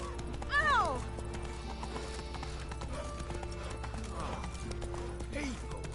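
Horse hooves clip-clop through a Witcher 3 game scene, with a brief whinny near the start and steady game ambience beneath, while voices speak over the action.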